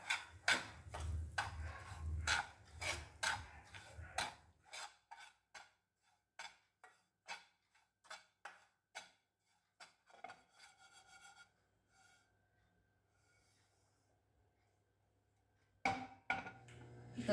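Fine semolina is roasted in a pan over low gas, the spoon scraping and rubbing in a quick rhythmic series that slows to sparse soft strokes, with a low background hum, and quiet scraping resumes at the end.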